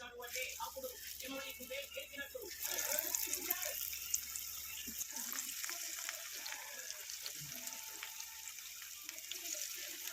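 Masala vadas fry in hot oil with a constant bright sizzle and crackle that runs throughout, while a person talks over it in the first half.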